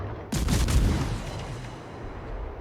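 Naval guns firing salvos at a cruiser in a warship battle game: a sharp, loud boom followed by a rolling rumble and a few quick repeated blasts that slowly fade, with no talking over them.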